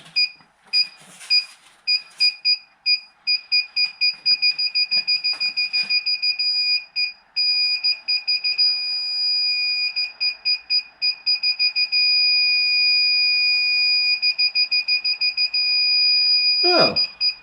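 A DIY-installed reversing parking sensor on a Vauxhall Corsa C beeps loudly and close up. Evenly spaced beeps quicken steadily as the car backs toward an obstacle, then merge into a nearly continuous tone.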